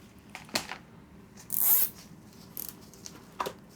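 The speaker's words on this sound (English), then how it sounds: "I'm just kind of zip tying it in a crisscross." Plastic zip ties ratchet tight on a hoya plant trellis being tied in a crisscross, with a few quick zips, one longer close rasping pull in the middle and more short clicks afterward.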